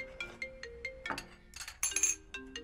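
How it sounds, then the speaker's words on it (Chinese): An incoming call on a mobile phone rings out as a short, bright electronic ringtone, with several repeated tones and a jangling burst near the end, loud and alone with no voices. "来电话了"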